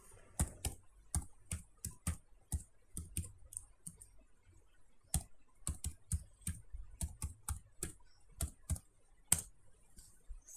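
Keys on a computer keyboard tapped in short, irregular bursts with pauses between them, crisp and close in an otherwise quiet room, without any talking.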